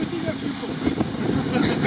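Steady, loud hiss of steam from a boiling Lada Niva car engine runs through the whole stretch, broad and continuous, with faint voice-like murmurs underneath.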